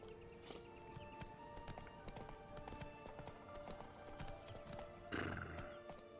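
Horse hooves clip-clop steadily in The Witcher III: Blood & Wine, with a whinny rising near the end over a bed of ambient game sound and birdsong.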